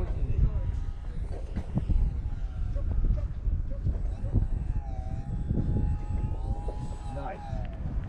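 A radio-controlled model airplane makes a high-speed pass over a runway, its motor whine rising and falling in pitch as it passes at a distance, under frequent nearby chatter and exclamations.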